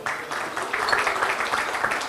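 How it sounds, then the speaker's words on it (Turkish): An audience at a Trabzon artists' night show gives renewed applause, a fairly soft, continuous wash of many hands clapping heard from some distance. "Onlara da bir alkış alalım tekrardan."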